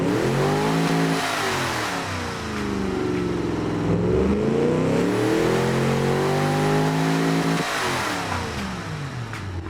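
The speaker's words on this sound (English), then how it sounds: "And then you hear the little pops and crackles, cause that's from the exhaust." A video game car's engine revs up and down repeatedly, loud and close, with sweeping pitch changes, exhaust pops and crackles, and no talking.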